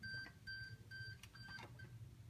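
A Hover Wheels F1 series hoverboard gives off a forklift-style reverse warning: a faint, evenly spaced electronic beep repeating about five times over a low background hum.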